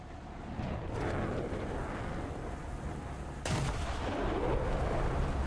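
Tank guns fire during a battle in War Thunder, with two heavy booming shots about two and a half seconds apart. Each shot is followed by a rumbling tail, and a low engine drone runs between them.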